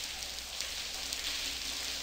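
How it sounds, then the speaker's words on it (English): Steady rain pouring down in the game Blackwell Convergence, a continuous dense hiss with no breaks, fairly quiet and heard alone. "Hey, let's get out of this rain"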